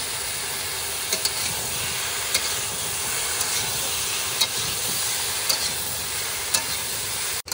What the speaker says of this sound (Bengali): ফুলকপি আর আলু কিন্তু ভালো করে কষে নিয়েছি ভাই